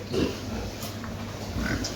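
Farm pigs grunting close by on a Sunday morning, a low, rough, continuous snuffling with a couple of louder grunts rising out of it.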